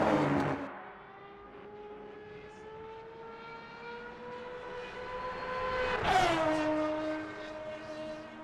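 Race cars at Circuit de la Sarthe in Le Mans Ultimate sweep through the Porsche curves, engines droning at a steady pitch as one car passes, then a second car roars close by and its note drops away.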